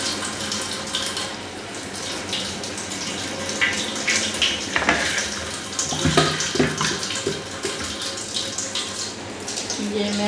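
Tap water runs steadily into a sink as goat meat is rinsed by hand in a home kitchen, with splashes and handling noises rising over the constant flow.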